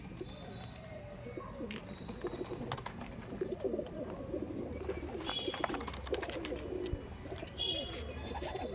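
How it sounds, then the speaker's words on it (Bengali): Pigeons in a loft coo steadily and softly throughout, several birds overlapping over a constant low background murmur, with occasional brief chirps above. "লট হিসেবে এইসব পায়রা"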